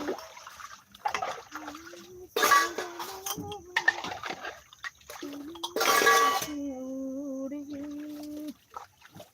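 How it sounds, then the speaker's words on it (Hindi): Dishes are washed under running water in intermittent bursts of splashing and streaming, with a voice singing or talking over parts of it. "देखो मैं लाइव चलाते चलाते अपना बर्तन भी धुल ली हूँ"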